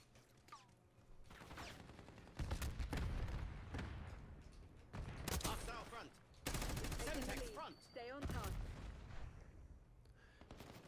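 Gunfire and explosions in the video game Call of Duty, with bursts of shots and heavy booming blasts that come and go through the clip, loud and full in the low end, with faint voices mixed in.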